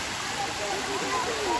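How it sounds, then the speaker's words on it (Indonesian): Waterfall at a lakeside tourist spot, Situ Cipanca in Majalengka, its steady broadband rush of falling water heard from moderately near at low level, continuous without a break. "nah ini air terjunnya guys"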